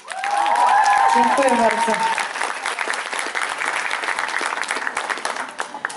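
An audience at an Empik store event in Warsaw gives a singer loud, sustained applause, with a voice speaking briefly over the start before the clapping carries on alone.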